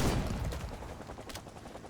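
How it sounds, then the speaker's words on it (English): Shotgun blasts against zombies in the video game Project Zomboid, a few loud booming shots in quick succession near a walled neighborhood gate, with no talking. "But it isn't long before we need the shotgun."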